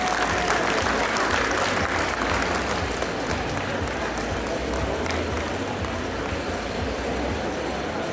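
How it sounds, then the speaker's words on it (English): Young students at an inauguration ceremony at Government Medical College and Hospital, Chandigarh, clap in a dense, sustained burst of applause that holds steady for about eight seconds. "I can't hear the applause"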